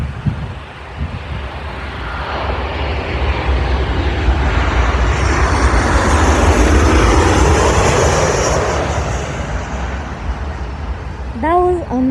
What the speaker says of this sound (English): That was another Southwest 737.